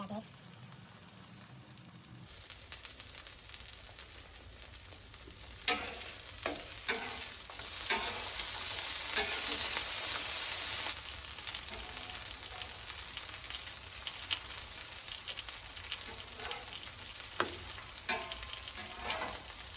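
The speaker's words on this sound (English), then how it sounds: "All right, guys, so now that the thing's ready, let's go ahead and add our pancakes." Pancake batter sizzles on a hot Blackstone griddle, a bright crackling hiss that swells when the batter goes down, with scraping and handling noises throughout.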